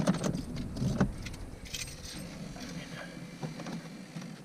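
Keys jangling on a ring while the ignition of a 2013 Ford Escape is switched off, a close, soft metallic rattle in scattered bursts with a faint car hum underneath and a voice speaking briefly.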